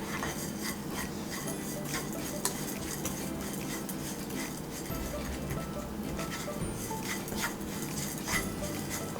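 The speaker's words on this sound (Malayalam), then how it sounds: "ഇളക്കിക്കൊണ്ടിരിക്കുക," Coconut milk pudding mixture stirred in a pan, a steady scraping and swishing that runs through the whole stretch over a dense, continuous background with light clinks of utensil against metal.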